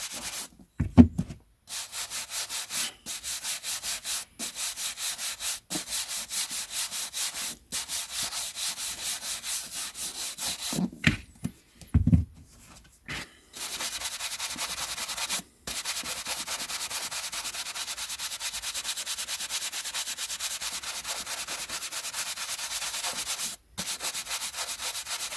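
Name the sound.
polishing paperback books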